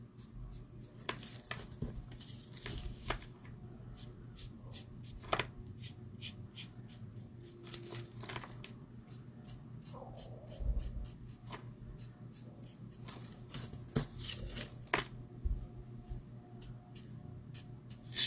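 A pen or marker colours in a stamped zebra image on paper, giving quiet close scratching strokes in quick irregular bursts with small taps between them.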